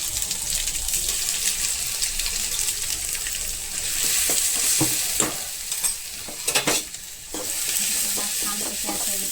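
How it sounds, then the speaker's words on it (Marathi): Ground masala paste and curry leaves stirred into a potato mixture in a frying pan, with a steady sizzle and repeated scraping stir strokes in a clear rhythm, close and moderately loud, no talking. "आपण मिक्सरला मसाला लावून घेतलेला आहे, तो त्याच्यामध्ये मिक्स करून घ्यायचा आहे"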